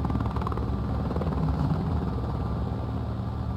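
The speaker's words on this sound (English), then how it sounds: "There is an enemy chopper at the town hall" An enemy helicopter in a squad-based shooter game gives a loud, continuous rotor thump and engine drone that holds steady and close for the whole stretch, with no talk over it.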